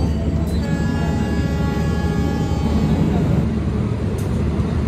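The Lodaya passenger train pulls out of Ciamis station at night in a loud, steady low rumble of wheels and engine that fills the whole stretch, with faint tonal squeals above it.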